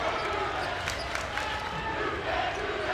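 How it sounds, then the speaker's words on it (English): Indian Hill student section roaring at a boys' high school basketball game against Madeira in a packed gym: a continuous wash of cheering and shouting with scattered claps, steady and loud throughout. "Indian Hill student section electrified right now"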